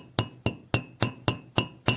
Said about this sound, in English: I'm going to do some hammering.